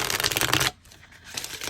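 Tarot cards being shuffled in a rapid riffling burst, loud and close, then a brief pause before a softer second round of shuffling, with no voices.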